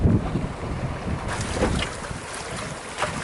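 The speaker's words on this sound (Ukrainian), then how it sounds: "Стався сильний вітер" Strong wind blusters against the microphone in rough, continuous gusts during morning sea fishing, with a watery, open-air roar and no voices.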